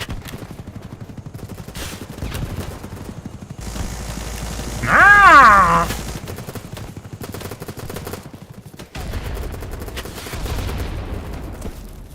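Assault rifle gunfire in a Fallout video game, rapid crackling bursts of automatic fire running through most of the stretch, broken by a short roaring growl midway, loud and near with no talking.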